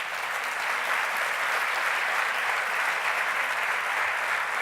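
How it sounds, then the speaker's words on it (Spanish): Congregation applause during a church sermon, dense and even clapping from a large crowd, sustained at a steady level for several seconds without speech over it. "Denle un aplauso a él, por favor."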